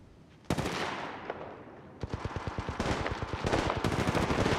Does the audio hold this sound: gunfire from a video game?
yes